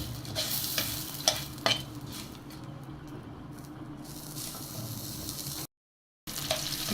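Whole spices, including white spices and cinnamon, fry in a pan with a soft, steady sizzle, scraped and stirred with a few sharper strokes, before the sound cuts out for a moment.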